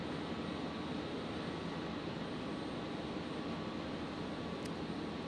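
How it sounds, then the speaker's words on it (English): At Brisbane airport a Virgin Australia airliner begins its takeoff roll, a distant, steady jet roar spreading across the night airfield without voices. "So Virgin 75 just receiving its takeoff clearance there. Should see that begin its roll very shortly."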